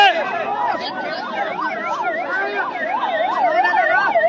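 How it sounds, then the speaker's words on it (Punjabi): An ambulance siren wails in a steady rising-and-falling pattern as the vehicle is let through a packed political rally crowd on a blocked road in Sangrur, loud and close throughout, with crowd voices murmuring underneath. "ਐਂਬੂਲੈਂਸ ਵੀ ਲੰਘਾਈ ਜਾ ਰਹੀ ਹੈ"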